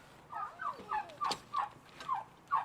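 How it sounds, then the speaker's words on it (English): Heritage turkeys gobble inside a hoop house, a run of about eight loud, close, rapid warbling calls in quick succession with no talk. "So we have our heritage turkeys in here right now."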